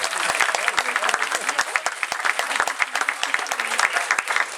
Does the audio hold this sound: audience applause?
yes